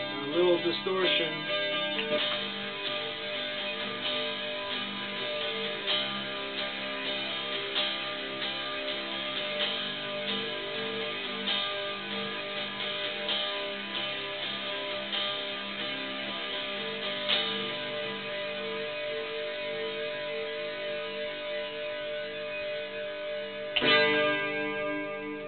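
Distorted electric guitar from a vintage 1965 Gibson SG through a Crate GT15 amp, with overdrive and chorus, playing a steady strummed rhythm of sustained chords, loud and continuous, with a sharp new chord attack near the end.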